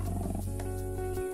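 A white lioness roars in the wild, a single deep, loud, sustained roar close by that holds steady before cutting off abruptly.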